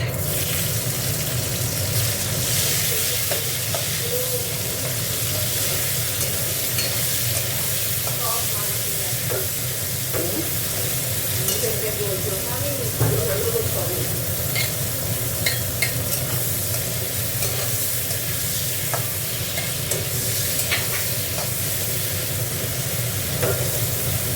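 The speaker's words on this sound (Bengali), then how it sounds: "দেখো, এখানে পেঁয়াজগুলো দিয়ে দিচ্ছে।" Onions fry loudly and continuously in a pan of hot oil for a crab curry, with dense sizzling, stirring scrapes throughout and faint voices in the background.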